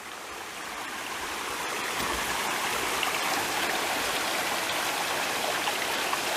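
Water rushing steadily at the headwaters of Jeremy's Run in Shenandoah National Park, a close, continuous broadband babble of a small stream flowing beneath a footbridge, with no voices.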